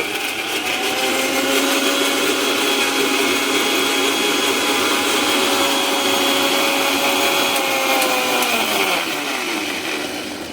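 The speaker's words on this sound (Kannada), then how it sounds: "ಇದು ಟೊಮೊಟೊ ಮಿಕ್ಸಿ ಮಾಡ್ಕೊಂತೀನಿ ರೀ" A mixer grinder blending tomatoes into paste whirs loudly and steadily for several seconds, its motor pitch dropping as it winds down near the end. No voices.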